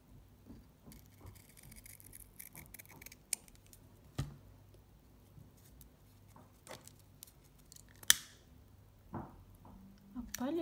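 Scissors cut a leaf shape from ribbon for a craft flower, making quiet, close snips and small crisp cuts spread irregularly over a hushed background.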